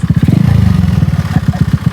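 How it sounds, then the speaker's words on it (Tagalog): A motorcycle engine idles close by, a loud, rapid chugging pulse that stays steady for a couple of seconds. "Pogi ng iyong motor na rin."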